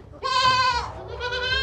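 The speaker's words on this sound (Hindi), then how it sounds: "बकरी चेक करें भाई, बहुत ज़बरदस्त बकरी है" A goat bleats loudly and close by, two drawn-out nasal calls, the second following a brief pause, at a livestock sale of goats and kids.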